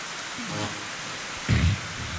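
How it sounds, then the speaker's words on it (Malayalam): Heavy rain falls in an even, moderate hiss, broken by a brief low thump midway. "നല്ല മഴയാണ് മാഷാ അല്ലാഹ്."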